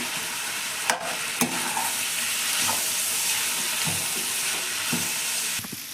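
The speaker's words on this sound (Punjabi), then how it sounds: "ਪਹਿਲਾਂ ਆਪਾਂ ਇਹਨਾਂ ਨੂੰ ਸਾਰੀਆਂ ਚੀਜ਼ਾਂ ਨੂੰ ਮਿਕਸ ਕਰਾਂਗੇ" Carrot, radish and chili pickle with spices being stirred and mixed by hand, giving a continuous close wet shuffling with a few sharp knocks against the container.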